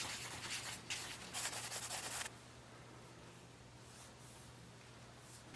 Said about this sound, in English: This one I'm just going to use some Scotch-Brite on.